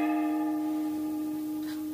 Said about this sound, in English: It's the gong to say breakfast ready.